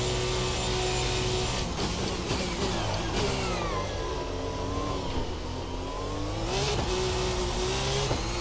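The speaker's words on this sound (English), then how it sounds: "I really like the sounds of these Formula 2 engines" A Formula 2 race car engine on a circuit in Austria sustains a loud, high-pitched howl, with its pitch dipping and climbing again as it revs through gear changes.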